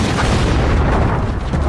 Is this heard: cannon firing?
yes